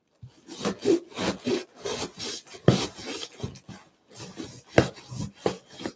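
A knife slicing open a cardboard box of 1984 Dune toys, heard as a close series of rough, scraping cuts and rubs in uneven bursts with brief pauses, with no talking.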